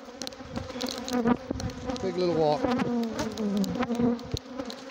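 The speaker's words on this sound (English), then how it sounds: "Oh, Africanized bees look great, don't they?" Africanized bees buzz densely around a hive, a loud, wavering swarm drone with insects passing close by, and someone speaks briefly under the buzzing.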